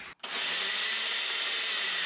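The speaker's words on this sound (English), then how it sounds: "So we're just gonna blend it and then we're gonna heat it up." A blender mixes a drink with maple syrup and salt. After a short pause it kicks in, then whirs loud, steady and high-pitched right up close.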